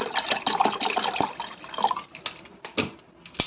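Water splashes into a pot of parboiled rice gruel on the stove, with irregular pouring and dripping bursts separated by short pauses.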